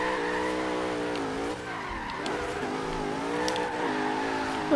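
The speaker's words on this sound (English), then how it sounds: "And now this thing's drifting pretty well." A Porsche 928 drifts in Forza Horizon 3, its tires squealing in a long continuous skid over a steady revving engine drone whose pitch rises and dips, loud and close throughout.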